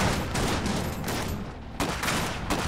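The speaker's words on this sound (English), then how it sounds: "We're taking fire!" Dense, continuous gunfire and rapid bursts fill a battle scene in the real-time strategy game Iron Harvest, loud and unbroken, with sharp volleys standing out.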